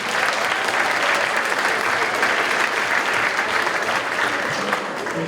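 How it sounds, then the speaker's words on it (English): Audience applause at a middle school winter concert, a steady dense clapping from a large crowd that holds at even loudness throughout, with no voices standing out. "So let's have a round of applause for our parents."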